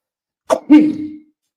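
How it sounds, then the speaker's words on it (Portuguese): A single person sneezes once, a sharp burst followed by a longer voiced release, close and loud against silence. "Eu vou espirrar."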